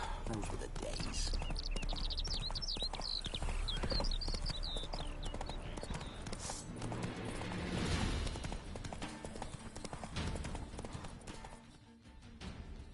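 In The Witcher 3: Wild Hunt, Hearts of Stone expansion, a horse's hooves clip-clop steadily and close by throughout, with a voice talking over them.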